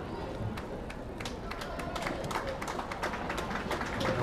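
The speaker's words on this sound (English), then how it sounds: "Molly Reagan checks out to a nice round of applause from the Braintree fans" Braintree home fans at a high school girls basketball game give a warm round of applause, steady clapping with crowd murmur and scattered sharp claps filling the gym throughout.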